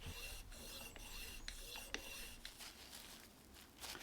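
Fine 1200-grit abrasive rubbed across the sliding section of a Record No 405 multiplane's metal skate, a steady close rasping with faint regular strokes roughly every half second, no talking.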